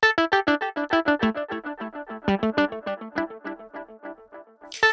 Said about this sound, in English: without that diffusion or density control, we just hear the delays